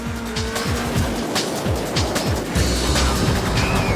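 Vauxhall Vectra race car lapping Oulton Park circuit, heard from onboard as a loud engine repeatedly revving up and dropping through rapid gear changes, with steady road and wind roar and no talk.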